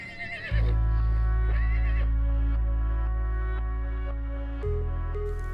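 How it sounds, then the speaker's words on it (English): Icelandic horses neighing in rural Iceland: a loud, close whinny followed by a long sustained droning tone, then another brief neigh near the end, with no talking. "Icelandic horses."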